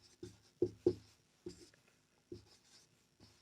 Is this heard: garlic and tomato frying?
no